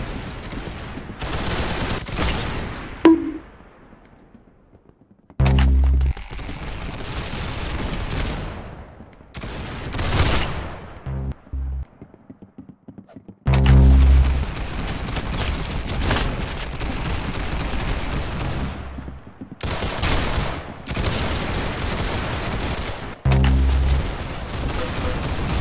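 Gunfire in the video game Arsenal, with dense bursts of rapid automatic shots and heavy booms in long loud stretches, separated by brief quieter gaps.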